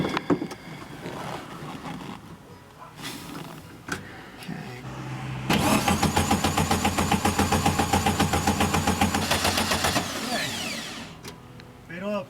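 An old VW Beetle engine, unrun for over 20 years, cranks with a rhythmic starter whir and then catches into a loud, rapid, chugging run lasting several seconds before cutting back, heard close up.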